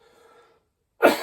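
After a faint murmur and a moment of silence, a single sudden cough bursts out close and loud at the very end, cut off before it fully fades.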